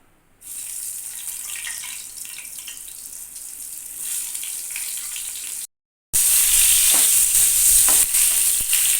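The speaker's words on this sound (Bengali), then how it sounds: "তেল ভালো করে গরম হয়ে যাওয়ার পরে পটলগুলো দিয়ে দিতে হবে ভাজার জন্য" Pointed gourds dropped into hot mustard oil in a frying pan, a loud steady sizzle that carries on past a brief cut and then comes back brighter and stronger.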